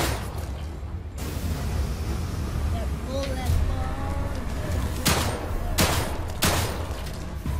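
Gunfire in the horror video game The Evil Within 2, a few sharp loud shots standing out from a dense, noisy game soundscape with rumbling low background.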